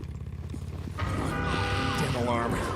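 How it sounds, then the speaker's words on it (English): A car alarm blares in the Days Gone video game, starting suddenly about a second in and wailing steadily over engine and game noise, loud and close. "Damn alarm."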